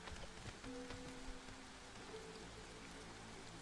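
In the video game Against the Storm, a drizzle geyser gives off a soft, steady hiss of falling rain and patter on surfaces, faint and continuous, with a faint tonal hum behind it.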